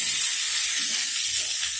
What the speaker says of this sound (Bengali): এবার এর মধ্যে কেটে রাখা টমেটোগুলো দিয়ে দিচ্ছি